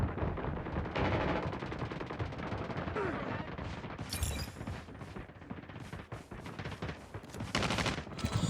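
Rapid bursts of automatic gunfire crackle in the video game Call of Duty, with dense overlapping shots and sharp separate bangs, loud and continuous throughout.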